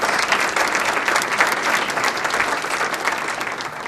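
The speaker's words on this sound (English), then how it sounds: "Please give them a nice round of applause." A large audience at a university agriculture college scholarship event claps in a loud, dense, continuous burst of applause that holds steady throughout.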